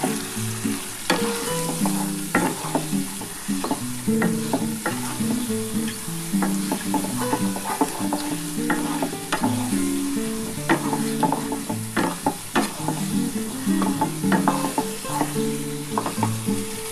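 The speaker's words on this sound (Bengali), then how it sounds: "এবার ভালো করে এটা নাড়াচাড়া করব। একটু ভালো করে কষিয়ে নিতে হবে এটা।" Duck egg curry masala sizzles loudly in a pan while being stirred and cooked down, with a constant hiss and frequent clattering scrapes and knocks from the spoon, close and unbroken by speech.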